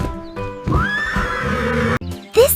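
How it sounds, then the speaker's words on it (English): A horse neighs loudly and close, one long rising and falling whinny with faint hoof clatter and a brief second cry at the end. "This is a horse. It runs so fast."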